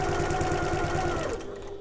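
A sewing machine runs steadily along a backpack seam, a close, even hum that slows slightly toward the end.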